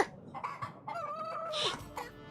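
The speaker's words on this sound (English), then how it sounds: "A rooster?" A rooster crows once in the video game Yes, Your Grace, a short rising and falling call heard close over a quiet background.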